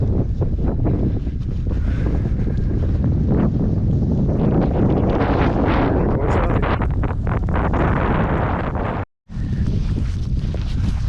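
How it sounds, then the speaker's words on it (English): Strong wind gusts buffet the microphone during a snowstorm on a frozen Maine pond, Hermon Pond, while ice fishing; a loud, continuous roaring rumble with surging bursts and one brief dropout near the end. "She's windy. She's snowing like crazy."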